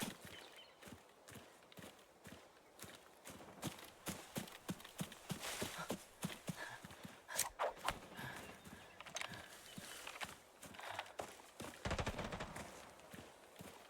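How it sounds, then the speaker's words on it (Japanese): Rapid bursts of close gunfire crack through a scene in the video game Arena Breakout, sharp repeated shots scattered over busy clattering footsteps and background noise. "近めの銃声なのだ。"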